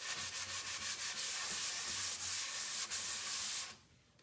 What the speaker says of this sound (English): I will take the sanding sponge and sand it and scuff it a bit.